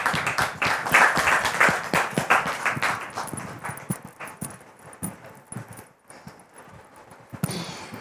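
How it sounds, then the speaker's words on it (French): A studio audience keeps clapping to welcome a couple. The applause is fairly full at first, then thins into scattered individual claps that trail off. "Recevons-la avec beaucoup de joie et des applaudissements nourris,"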